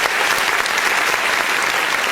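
Steady, dense applause from a large audience at an awards show, continuous clapping at even loudness for the whole stretch with no voices breaking through.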